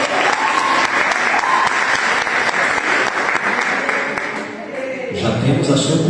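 A church congregation gathered for coffee and fellowship claps in sustained, loud applause for several seconds, a dense crowd of hands that thins near the end as a voice begins speaking.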